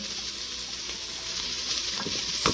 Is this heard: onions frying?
yes